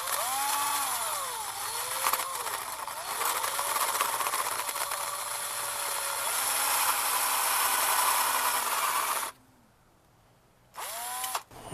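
A handheld power drill whines loudly, its motor pitch rising and dipping as it bites into material, running for about nine seconds before cutting off, then briefly spinning up again at the end.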